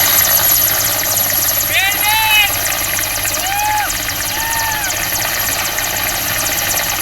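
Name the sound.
air force rescue helicopter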